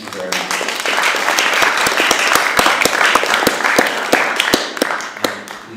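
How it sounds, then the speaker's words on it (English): A room full of people at a statistics launch event applauds, producing loud, close clapping with sharp individual hand claps standing out over a steady mass of applause for nearly six seconds. "Could we give them a round of applause?"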